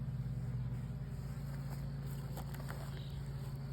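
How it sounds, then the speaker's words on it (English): Honeybees buzzing inside a hive box full of frames after a swarm, a steady low droning hum close by, continuous with no talking. "now it's bees throughout the whole box"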